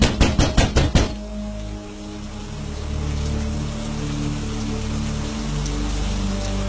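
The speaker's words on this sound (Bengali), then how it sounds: "হঠাৎ বাড়ির দরজায় কারো ধাক্কার আওয়াজ পেলাম।" Five quick, loud knocks on a door in a Bengali horror cartoon, followed by steady rain pattering close by with a low hum underneath for several seconds.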